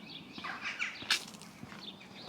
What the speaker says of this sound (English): You know, the birds chirping away.